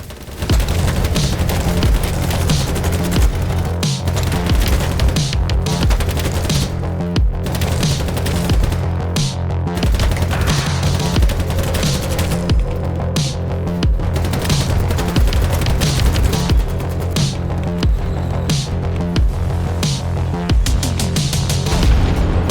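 M4A1 rifle gunfire in the video game BattleBit Remastered: dense, loud bursts of automatic fire with booming low thumps, continuing almost without pause, amid other battle noise.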